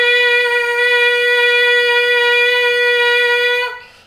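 A trumpet player's steady lip buzz as a warm-up, one sustained bright, reedy tone with rich overtones held for about three and a half seconds before fading out, close and loud with no talking.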